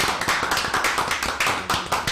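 Audience applause at a tribute to a teacher in a Dominican neighborhood gathering, a steady run of sharp claps at moderate distance, fairly close together, without talking.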